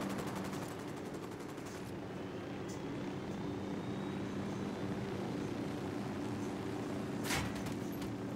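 A helicopter in the video game Ghost Recon Wildlands, a steady rotor drone with rhythmic chopping, fairly faint and distant, plus a brief sharp burst near the end.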